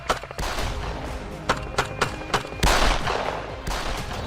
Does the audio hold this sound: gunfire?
yes